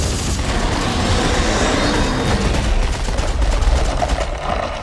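Gunfire in the co-op sci-fi horror game Dead Space 3, a dense continuous barrage of shots and booming impacts filling the whole stretch loudly, with no clear gaps between bursts.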